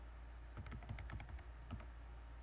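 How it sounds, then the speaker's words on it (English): Fast, uneven clatter of keystrokes on a computer keyboard, a run of quiet clicks close by with no voices, at a slightly halting typing pace. "My typing's not the greatest."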